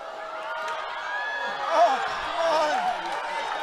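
Spectators at a schools hockey final between Collegiate and St Mary's Kloof cheer and shout in a steady, distant wash of crowd noise that swells briefly partway through.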